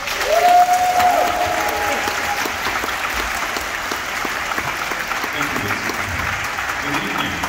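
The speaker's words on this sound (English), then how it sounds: "So I want you to give a big round of applause for Stephen Warner." Strong, sustained crowd applause inside Detroit's Senate Theater, dense clapping filling the hall for several seconds, with a brief whistle near the start.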